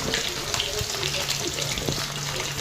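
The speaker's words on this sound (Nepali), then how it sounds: "यहाँ चाहिँ माछा फ्राई हुँदैछ मेरो।" Fish frying in a pan, a constant loud crackling sizzle with dense spattering pops, close and continuous.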